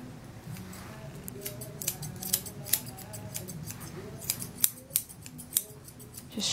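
Scissors snip repeatedly through a Maltese dog's fur during grooming, a run of quick, light, close cuts at an uneven pace over a low background murmur.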